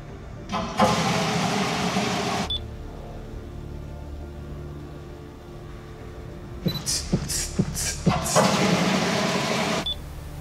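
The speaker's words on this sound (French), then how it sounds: "Merde, c'est une voiture." A car passes through an amusement park at night, its engine swelling near, fading, then returning with a second loud pass against otherwise quiet darkness.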